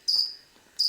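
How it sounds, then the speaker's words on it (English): Cricket chirps played as a sound effect: two short, bright trilled bursts separated by a gap of near silence, clear and close. "Play the crickets."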